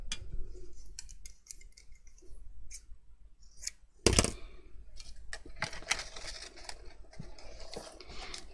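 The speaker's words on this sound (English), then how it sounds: "I'm going to cut this on an angle." Scissors slice organza ribbon at an angle while a gift box stack is assembled, giving one sharp, close snip midway through amid light ticking and handling noises.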